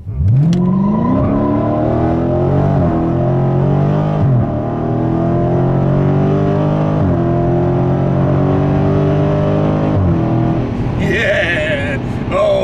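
A 2016 Dodge Challenger Scat Pack pulls away from a stop, its engine loud and close, revving up through several gear changes with a rising, throaty drone, while someone talks over it.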